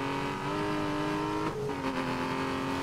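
A car engine drones steadily while driving in Need for Speed Most Wanted 2012, a sustained mid-level hum that shifts pitch briefly as the car changes gear, with no voices.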